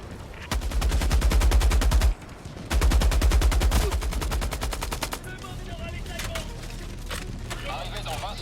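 Laser cannon fire in the video game Helldivers 2 rattles out in two long, rapid, evenly pulsed loud bursts separated by a short gap, then gives way to quieter scattered battle noise.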